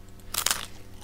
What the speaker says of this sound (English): after I'm finished eating this really crunchy cabbage